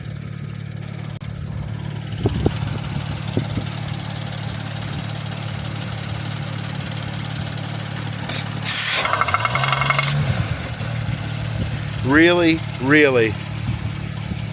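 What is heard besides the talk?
Porsche Panamera 2018 engine idling roughly with oil cap removed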